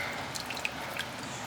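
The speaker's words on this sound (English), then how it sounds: "So I just added in some water. Shake it up. Pour." Water sloshed around in a cooking pot used for ragu and poured out, with soft splashes and a few small drips and splats over a low, quiet wash of liquid.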